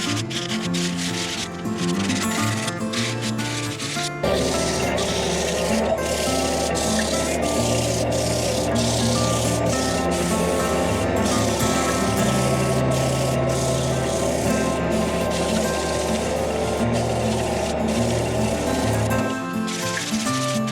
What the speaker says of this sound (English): Let's do some sanding. I think we're gonna be getting started out here with 150.